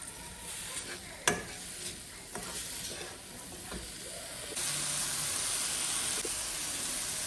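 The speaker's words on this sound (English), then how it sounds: "Let's go ahead and caramelize this in a medium heat." Brown sugar caramelizes in a pan over medium heat, a soft steady sizzle with occasional stirring scrapes and taps that grows into a louder, fuller hiss partway through.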